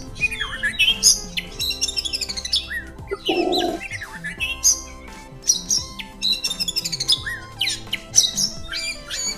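An oriental magpie-robin (kacer) calls loudly and close by in repeated bursts of sharp whistles, squawks and chirps, with brief pauses between phrases and a short low rustle partway through.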